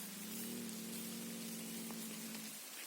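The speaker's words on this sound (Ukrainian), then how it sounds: "Пішов дощ" Light rain pattering softly on a surface, heard from under a tree, faint and steady, with a low hum running underneath for most of it.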